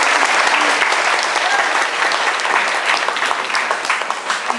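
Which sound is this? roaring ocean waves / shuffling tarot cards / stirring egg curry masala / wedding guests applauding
wedding guests applauding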